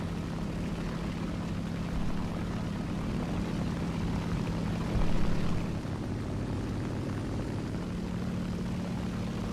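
WWII propeller fighter planes, a P-38 and a Bf 109, drone steadily in War Thunder arcade air combat, a loud unbroken engine roar that swells briefly midway, with no voices.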